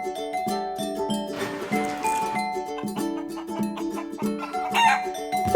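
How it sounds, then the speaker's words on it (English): Silkie chicken clucking among farm toys, with a rooster crowing, heard over steady upbeat children's music. "The silky chicken."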